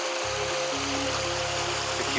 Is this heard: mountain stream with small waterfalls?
yes